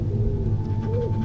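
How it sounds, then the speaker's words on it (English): Low cooing calls from birds in a forest, soft and repeated in a couple of short phrases over a steady background rumble, fairly close by. "Just birds, mate, just birds."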